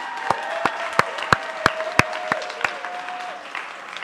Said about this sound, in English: can we please give a huge round of applause for our graduating cohort of MAS